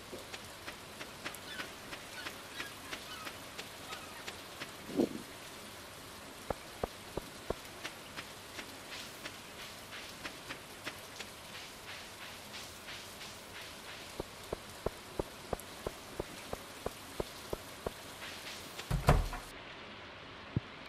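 Rain patters in the Stardew Valley video game, a soft steady hiss of falling drops with regular sharp ticks scattered through it and a couple of louder thuds, quiet and continuous throughout.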